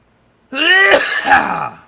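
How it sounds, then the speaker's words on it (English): A single harsh cough, loud and close, with a strained voiced rasp lasting about a second and a half before cutting off. "No, I was coughing."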